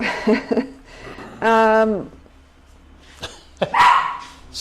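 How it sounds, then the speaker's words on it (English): A dog barks several times nearby, mixing short sharp barks with a longer drawn-out howling bark, loud and close, with a voice chuckling or speaking briefly in between. "The dog sounds good."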